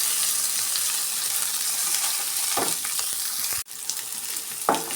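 Oil frying steadily in a pan while sambar spices are prepared, a loud bright sizzle with two brief scraping stirs and a short break before the hiss resumes.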